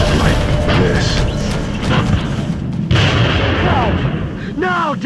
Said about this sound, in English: I'm being targeted. Taking fire over here.